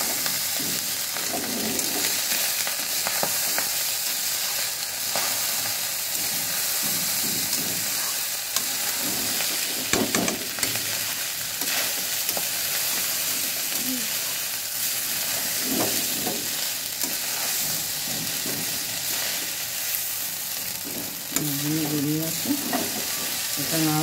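Rice for a cauliflower and potato vegetable biryani stirred in a pan over lowered heat, a soft continuous sizzle with intermittent scraping strokes, and a faint voice briefly near the end.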